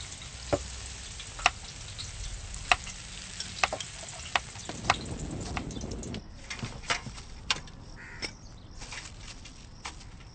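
Jantikalu, the spiral murukku snacks, frying in hot oil with a steady crackling hiss broken by sharp pops, and crows cawing intermittently in the background.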